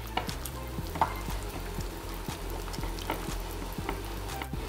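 A spoon stirs mug cake batter of milk and oil in a mug with a steady, repetitive scraping and sloshing. The close, moderate strokes come in an even rhythm of roughly two per second, with no voices.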